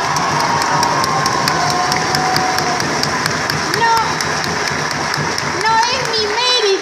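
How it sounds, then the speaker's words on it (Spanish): An audience at a socialist gathering claps in a steady rhythm, with loud voices calling out over the clapping and a speaker's voice rising near the end. "que aplauden porque Margarita está diciendo lo que ustedes piensan"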